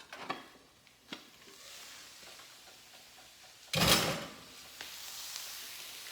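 Food being stirred and mixed together in a feeding bowl, with soft scraping and clinking throughout and one louder, brief clattering burst partway through, heard close up with no talking.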